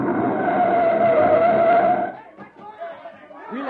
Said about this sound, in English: There's a recon car coming up.